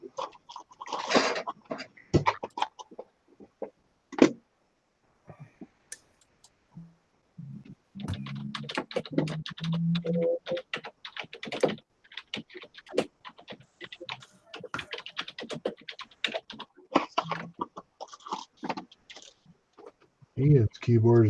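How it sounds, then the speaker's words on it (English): Loud computer keyboard typing, rapid clacking keystrokes in irregular bursts with people talking over and between them. "Ian's keyboard is just as loud as Adam's. Clackety clackety clack clack clack"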